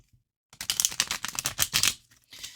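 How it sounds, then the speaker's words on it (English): Tarot deck with slightly sharp-edged cards riffle shuffled in the hand, a quick rapid flutter of cards cascading together, close and crisp, followed by a brief bridge tap. "the deck is of a size that I can hold completely in my hand for riffle shuffling"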